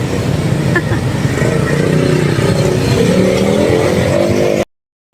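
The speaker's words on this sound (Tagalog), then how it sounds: "Busy na mga katsi, marami na dumadaan ng mga sasakyan dito." Vehicles, cars and motorcycles among them, stream past on a busy road near a lechon festival, a steady close engine roar with one rising rev before the sound cuts out abruptly.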